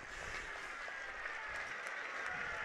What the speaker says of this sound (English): met with applause by their teammates and students on the far embankment